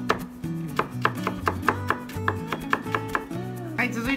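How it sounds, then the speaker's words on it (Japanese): A knife finely minces ingredients for a canned-mackerel pilaf on a cutting board, giving a run of quick, crisp taps at an uneven pace under steady melodic background music. "こんな感じにみじん切りにしてあげてください。"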